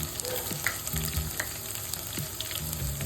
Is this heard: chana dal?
yes